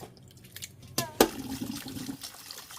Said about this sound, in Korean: 체에 받쳐 물 빼고 다시 찬물에 넣습니다